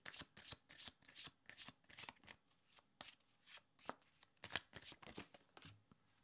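Tarot cards shuffled by hand close up, a quick rhythmic series of soft riffles and papery taps, fairly quiet, with no voices.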